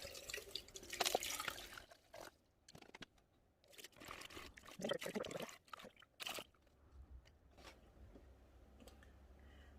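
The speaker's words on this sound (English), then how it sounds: "Make sure to rinse all the product out of the hair" Water rinses product out of human hair crochet braids in a close, uneven wash of splashing and dripping, with bursts of running water and wet squelching that fade to a low trickle.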